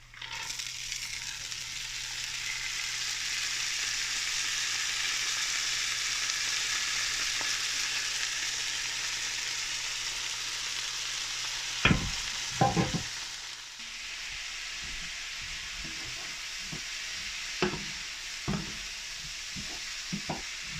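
Garlic and lentil peas frying in a pan, giving a steady, even sizzle throughout, with a few scattered clinks and scrapes of stirring in the later part.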